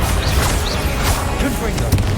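Confringo fire spell blasts in the Hogwarts Legacy video game, a dense, loud crackling and booming impact layered over busy game sound, with short bright bursts recurring through the brief moment.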